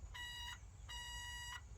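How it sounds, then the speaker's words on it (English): Two sustained electronic door buzzer tones from a 1974 Volkswagen Super Beetle, each lasting about half a second with a short gap between, fairly quiet over a low rumble. "this annoying sound. It's the door buzzer."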